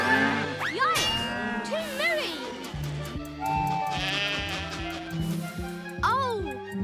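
Sheep bleat in a cartoon farm scene, several wavering bleats rising and falling one after another over light background music and sound effects.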